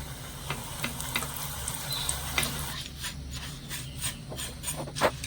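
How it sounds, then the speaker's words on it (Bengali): Raw flattened rice frying in hot oil inside a metal strainer, a soft continuous sizzle with scraping and rustling as the flakes are moved about, fairly quiet and close, no voices. "এবারে এই চিড়েগুলো আমি ভেজে নেবো"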